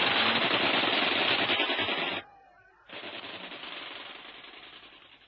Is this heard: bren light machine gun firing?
yes